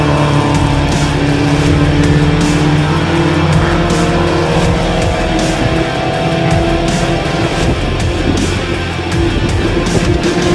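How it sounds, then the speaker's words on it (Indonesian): BMW race car cornering at R9 during a BMWCCI race at ISSOM 2021, its engine droning loudly and steadily while tires squeal through the bend, with other cars' engines also audible on the circuit. "Kita lihat Mas Diki masuk tikungan R9"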